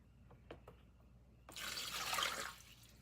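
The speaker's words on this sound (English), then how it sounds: "I have my Tupperware tumbler full of water. I'm just going to pour it in here." Water is poured from a Tupperware tumbler into a container, giving a short, steady splashing rush of about a second in a quiet room, preceded by faint clicks and handling noises.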